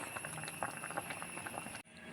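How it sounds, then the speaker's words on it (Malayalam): Ripe bananas boil in a pot for banana payasam, giving a soft, close bubbling with small irregular pops that stops abruptly near the end. "നമ്മുടെ പഴമെല്ലാം പുഴുങ്ങി വരട്ടെ"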